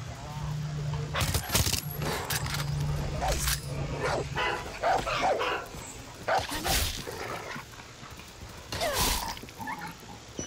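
A dog barks in Far Cry 6 amid a jumble of game sounds, with sharp, scattered bursts and clattering close by while someone speaks at times.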